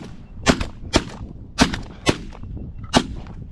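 Shotguns fire at incoming Canada geese on a cold, windy morning hunt, five sharp, loud reports spread irregularly over a few seconds, close by against a steady wind rumble.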